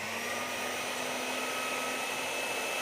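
An electric sugarcraft pasta roller runs with a steady, noisy motor whir and a faint whine, constant and fairly quiet throughout with no voices.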